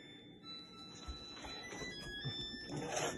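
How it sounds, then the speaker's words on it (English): A washing machine plays its end-of-cycle melody in a home, a short series of faint electronic beeping tones heard over quiet household background noise. "That's the washing machine is done, making noise, singing music."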